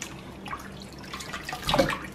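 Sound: water running while washing raw red snapper

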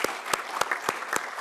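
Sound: audience round of applause

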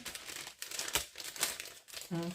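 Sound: plastic zip bags crinkling

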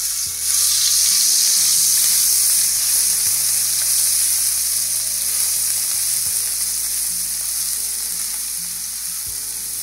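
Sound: ground spice paste frying in oil

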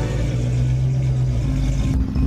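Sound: car driving off, cartoon sound effect

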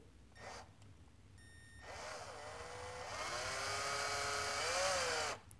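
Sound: cordless drill driving tap into plastic

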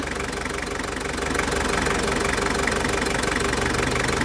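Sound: car air conditioning running, engine idling

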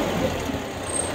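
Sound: Kubota engine revving

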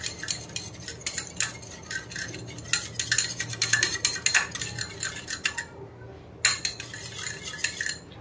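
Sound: mixing maida batter in a bowl

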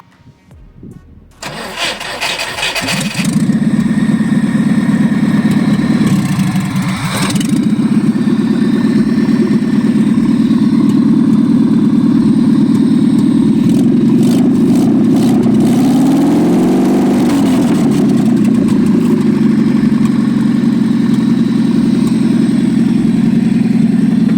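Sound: car engine starting and idling

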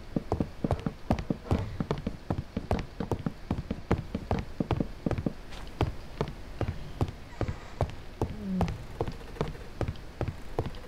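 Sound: rain in the video game Minecraft

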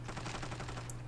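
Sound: weapon tap firing in video game Standoff 2

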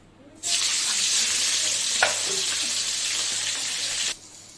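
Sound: dried chillies and cumin tempering in hot oil

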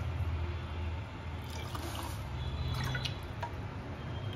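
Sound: water poured into a bowl of sago

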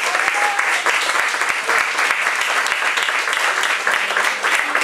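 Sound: audience applause

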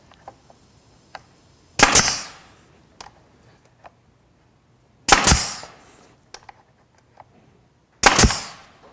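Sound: nail gun attaching a wooden fence to a sled

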